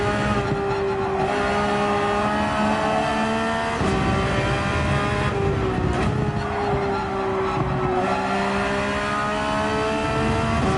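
An Aston Martin race car with a front engine mounted far back accelerates hard around the Barcelona circuit, its loud, steady engine note rising and falling through gear changes with no talk over it.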